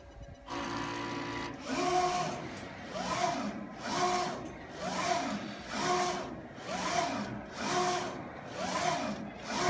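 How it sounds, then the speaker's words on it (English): An MT & Refretonic 1807DE eco-solvent printer runs a calibration test print. The printhead carriage sweeps back and forth in steady, rhythmic passes about once a second, heard clearly at moderate volume with no talking. "And then move up to printing again."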